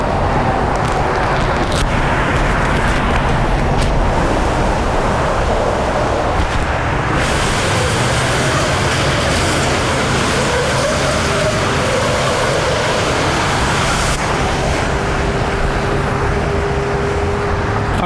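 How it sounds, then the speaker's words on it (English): Loud, steady roar of highway traffic under wind buffeting, with a Jeep speeding past at about 85 mph adding a passing engine swell partway through. "Jeep going way too fast, doing about 85"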